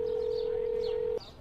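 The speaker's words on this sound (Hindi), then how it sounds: "मैंने अथर्व को कॉल मिलाई" A steady telephone tone hums for just over a second before cutting off, like an outgoing phone call ringing unanswered, with faint background noise continuing after it stops.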